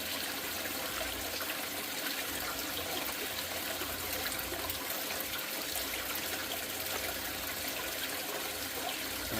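Water running steadily into the tank of a floor scrubber machine, a constant rushing, trickling flow at even level with no pauses or talk.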